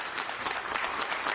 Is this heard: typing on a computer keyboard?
no